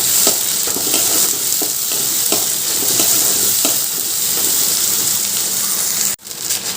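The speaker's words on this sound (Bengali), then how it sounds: "রসুনটা কিন্তু আমি কাটিনি গোটাই দিয়ে দিলাম এবার ভালো করে ভেজে নেবো" Onions and whole, uncut garlic cloves fry in oil for a quick mutton curry, giving a steady, loud sizzle with faint scrapes of stirring, then a brief dip to near silence before the crackle returns.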